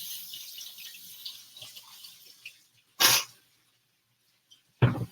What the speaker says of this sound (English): So I'm gonna rinse it first.